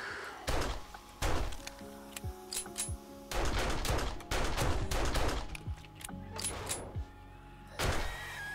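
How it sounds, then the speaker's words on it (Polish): Gunfire in the zombie survival game 7 Days to Die: a series of loud, sharp shots in irregular bursts, some clustered close together, with thuds and rattling game noises between them. "Ale piękny strzał poszedł."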